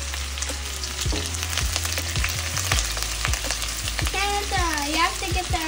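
Onions fry in oil in a pan, a loud close crackling sizzle with rhythmic knocks and scrapes of stirring, a steady low hum underneath and a faint warbling tone near the end.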